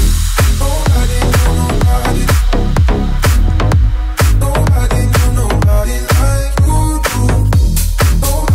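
Electronic dance music drop built in a production tutorial: loud, steady four-on-the-floor kick with punchy bass hits and layered synths, driving continuously with brief gaps in the pattern.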